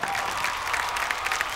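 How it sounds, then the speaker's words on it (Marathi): Audience applause welcoming a stand-up comedian onto the stage at a live comedy show, a steady, dense wash of clapping from a crowd that holds for the whole moment without a break. "जोरदार टाळ्यांनी स्वागत करूया अनिश गोरेगावकर."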